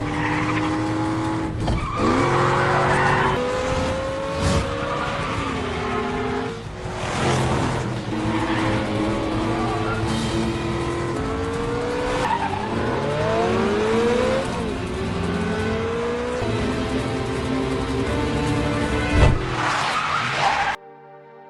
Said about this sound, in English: Jimmy then drives his car at high speed